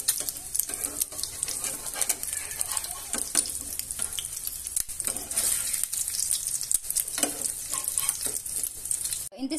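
Hotdog and egg fry in a pan with a steady, bright sizzle and crackle, close up, with occasional stirring and scraping sounds throughout.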